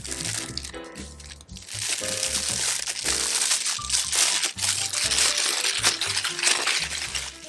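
Transparent plastic wrapping around a TTArtisan 56mm f1.8 camera lens crinkles and crackles continuously up close, with dense irregular rustling and occasional sharper crunches throughout.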